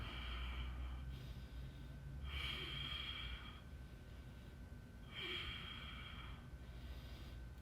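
Deep, slow breaths during a stick mobility exercise, with long airy inhales and exhales repeating in a steady cycle, close and soft against a low background hum.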